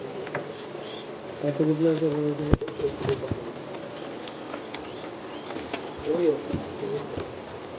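Fancy pigeons coo in low, throaty bursts, one run early and another later, amid faint rustling and a single sharp knock.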